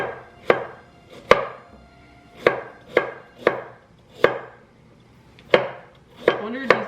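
A knife chops carrots on a cutting board, about ten sharp, separate knocks coming at an irregular pace, close and clear with quiet gaps between them.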